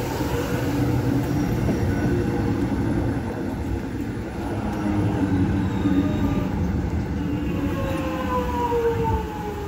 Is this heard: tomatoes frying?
no